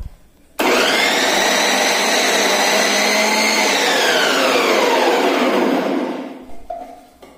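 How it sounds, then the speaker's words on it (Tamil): A Preethi Zodiac mixer grinder grates cabbage fed through its lid, starting abruptly with a loud, steady motor whine that holds for several seconds, then gradually slows and winds down before stopping. "இப்போ வந்து கட் பண்ணி வச்சுருக்கிற முட்டைக்கோஸை எடுத்து லிட் வழியாக செலுத்தி கிரேட்டிங் பண்ணிக்கலாம்"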